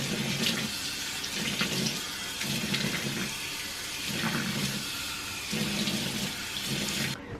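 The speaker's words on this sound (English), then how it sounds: "You do just want to rinse until you don't feel the beads anymore" Tap water runs into a bathroom sink while a face is rinsed after exfoliating with a bead scrub, splashing in uneven bursts as handfuls of water are scooped and thrown, with no one talking.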